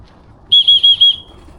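A shrill pigeon-calling whistle sounds four quick pulses in a row during racing pigeon training, loud and close, then trails off into quiet outdoor background.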